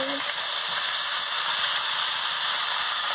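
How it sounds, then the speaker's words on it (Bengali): Meat frying in a pan with chili and cumin, giving a steady, loud, broadband sizzle and hiss that holds evenly throughout with no pauses. "দিয়ে ভালো করে ভেজে নিচ্ছি"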